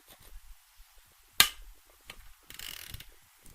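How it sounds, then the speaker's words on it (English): A 10mm socket cracks loose a camshaft mounting bolt on a Honda VFR800Fi motorcycle engine being rebuilt: one sharp metallic crack near the middle, then faint clicks and a short rattling ratchet burst, close and quiet. "we're going to start slackening these bolts on the camshaft mountings. So to do this, I'm going to need a 10mm socket"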